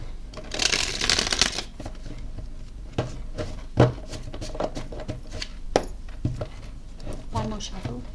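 Tarot cards being shuffled up close, a dense riffling burst early on followed by scattered softer flicks and taps, with a quiet voice in places.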